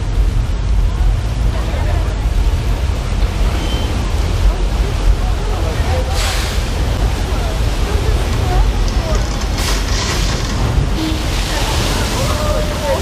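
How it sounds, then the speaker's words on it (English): A continuous, loud roar of thousands of gallons of water released from tanks in a theme-park flash flood effect on the Universal Studios tour, surging without pause, with a faint murmur of people in the background. "That is one flash flood, the result of thousands of gallons of recycled water being released from tanks"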